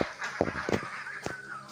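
Egg-laying ducks quack in several close, loud, honking calls in quick succession, with one call sounding slightly apart from the rest.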